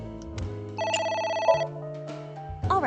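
A telephone rings in the video game AI: Somnium Files, its electronic tone repeating in steady bursts over a sustained musical background.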